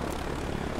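Steady, loud engine and rotor drone of a helicopter in flight in the Dead Sea survival horror video game, continuous with no pauses and no talking.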